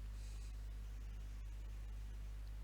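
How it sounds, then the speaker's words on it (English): Steady hiss of a white noise test signal with a low constant hum underneath, unbroken throughout. "I will do a test with white noise."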